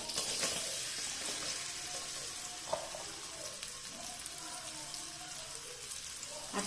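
Fenugreek greens sautéing lightly in oil make a steady, close frying hiss with faint crackles and an occasional clink, with no voice over it.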